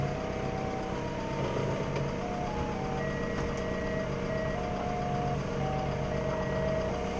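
A forklift backs up with its reversing alarm beeping steadily and repeatedly over a low, constant engine hum, heard at moderate distance with no talking.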